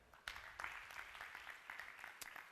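An audience applauds in a lecture hall, with a burst of clapping that rises sharply, continues as a dense patter and then fades. The applause is fairly quiet and distant.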